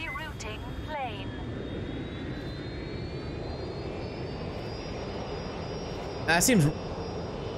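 A rerouted airplane's engine in the video game Watch Dogs Legion drones steadily throughout, a continuous jet roar with a slowly rising whine. Someone speaks briefly at the start, and a short, louder electronic sweep cuts in near the end.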